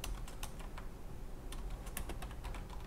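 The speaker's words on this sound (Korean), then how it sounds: "이건 그냥 여기 가서 타이핑 연습하는 거예요" Keys on a computer keyboard are tapped in quick, uneven runs during JavaScript coding practice in a classroom, the clicks light and fairly close over a steady low room hum.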